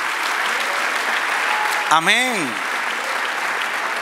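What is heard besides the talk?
congregation applauding in church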